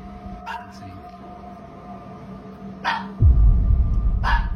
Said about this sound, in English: My dog just started barking for no fucking reason.